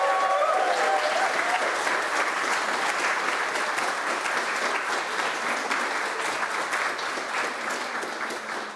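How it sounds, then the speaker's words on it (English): Audience applause at a university botany quiz final, a dense, loud burst of many hands clapping that holds steady and slowly eases toward the end. "So a round of applause for Jonathan Charmley."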